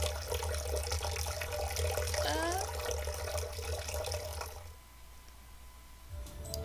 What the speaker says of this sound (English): water is closing in on me from all sides, leaving me pressed in between.